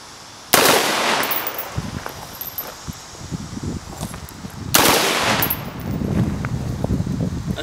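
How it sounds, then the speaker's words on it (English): A gun firing in full-auto bursts outdoors, two long rattling bursts of rapid shots a few seconds apart, loud and close, with rustling and movement sounds between them. "So at first do like two, like a 3 second hold, like a 3 shots each, and then you go full auto."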